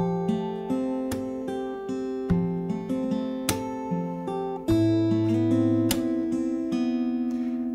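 Fingerstyle acoustic guitar plays a song, with plucked bass strings, slapped treble strings and clear sustained chords ringing in a steady rhythm, close and loud throughout with no talking.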